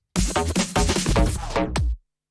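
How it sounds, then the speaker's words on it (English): A short burst of rhythmic music from a remix slows and drops in pitch with a tape-stop effect as it winds down to a halt, then cuts to silence. "almost like it's a tape deck stop"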